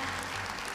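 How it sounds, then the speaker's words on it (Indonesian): Applause for Ibu Melisa, an audience member about to ask a question at a talk, comes as a short, faint, continuous patter of many hands with no voices over it. "Kita berikan tepuk tangan untuk Ibu Melisa yang mau bertanya."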